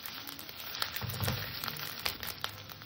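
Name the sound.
ginger garlic paste frying in a pan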